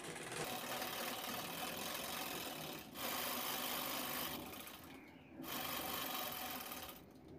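A sewing machine stitches lining cloth along the sides, running steadily and loudly, with two short pauses before the motor starts again.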